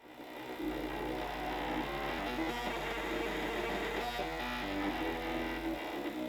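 A stepper motor driven by an A4988 driver runs on a wooden desk, making a loud, steady buzzing whine with layered tonal hum that starts abruptly and holds constant for several seconds before cutting off.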